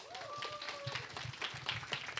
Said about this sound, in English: Let's give a warm round of applause for Subhan Hasanli.